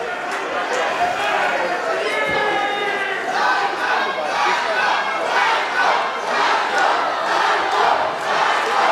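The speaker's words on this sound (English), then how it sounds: "As we hear the fans cheer on for Psycho Clown." Wrestling crowd at a Dr. Wagner Jr. versus Psycho Clown match cheering and chanting for Psycho Clown, a dense roar of many voices with rhythmic shouts rising and falling steadily throughout.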